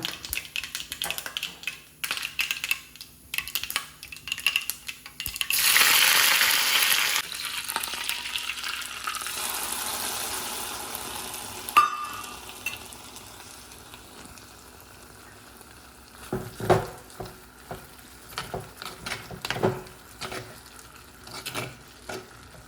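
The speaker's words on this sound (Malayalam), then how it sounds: "ഇനി ഇതിലേക്ക് നമ്മൾ കടുക് പൊട്ടിച്ചതും കൂടി ആഡ് ചെയ്യുമ്പോഴാണ് നമുക്ക് ഇതിന് ടേസ്റ്റ് കൂടെ കേട്ടോ" Hot mustard seed tempering is poured into a raw banana curry. It gives a loud, broad sizzling hiss that lasts several seconds, then fades into quieter stirring and clinks.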